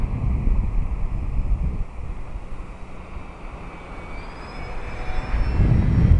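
An RC model airplane on a 4S battery flies with its electric motor throttled back from about three-quarter power. It gives a steady whirring drone mixed with wind rush, dipping in the middle and then swelling louder again.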